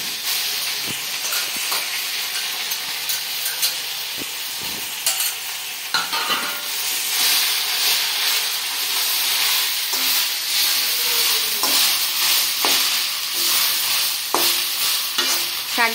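Drumstick (sajana) leaves frying in a pan, giving a steady crackling sizzle with stirring scrapes, loud and close, running continuously throughout with no talking.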